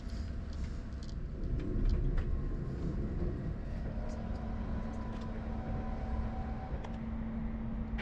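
Steady low rumble of an X2000 high-speed tilting train pulling away from a platform and gathering speed, with a sustained hum and faint rattles throughout, no voices.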